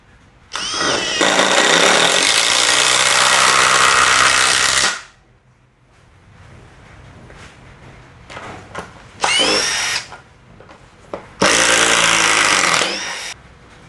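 Makita TD172D cordless impact driver loosening a bolt, a loud close burst of rapid hammering for about four seconds, then two shorter bursts after a pause with faint handling noise between.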